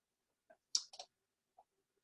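A few quiet, sharp mouse clicks in a software window, a couple close together then one more after a short pause, with no voice.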